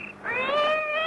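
A single cat meows near a lodge's rear entrance by a parked car: one close, drawn-out cry that rises and holds steady, with nothing else around it.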